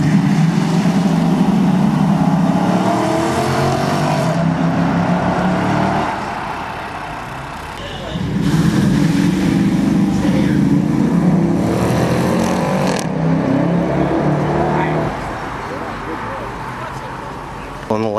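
A 2008 Dodge Magnum SRT8 accelerates hard at full throttle, its loud engine roaring up through the gears in two long pulls with a brief lift between, close and steady, with a voice talking over it.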